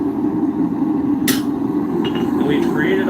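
One sharp metallic hammer blow rings out as a punch is driven through hot iron, a single strike over steady low background rumble.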